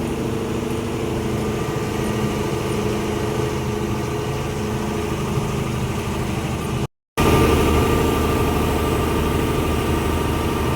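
A vehicle descending the Kaparada ghat slowly, its engine holding a steady low idle-like drone with rumbling vibration, continuous and close throughout, with no voices.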